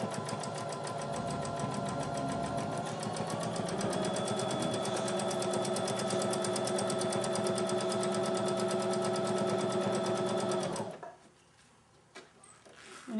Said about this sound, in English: putting my needle into my sewing machine